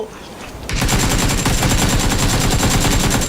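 Loud automatic gunfire from PUBG erupts after a quieter moment and keeps going as a rapid, steady burst of close shots, with no talk over it.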